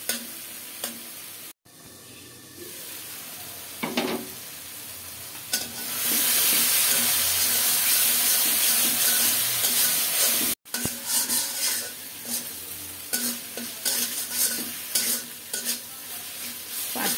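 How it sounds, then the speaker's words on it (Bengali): Tomato and onion masala is stirred and sautéed in a pan, giving a steady sizzle with repeated scraping strokes. The frying grows louder and more hissing midway, then settles into uneven stirring bursts, with no voices. "এইভাবে নেড়ে নেড়ে ভালোভাবে কষিয়ে নেব"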